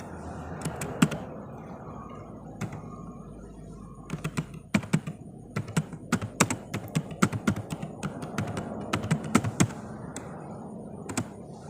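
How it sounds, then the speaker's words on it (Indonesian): Close, crisp typing on a computer keyboard, with irregular runs of keystrokes and short pauses between bursts, growing denser toward the end, with no voice over it. "Di sini kita ketik"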